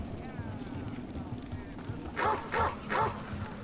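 A Mabari war dog in Dragon Age: The Veilguard gives three quick, loud barks in a row, each sharply separated, after a stretch of low game ambience with faint whimpering tones.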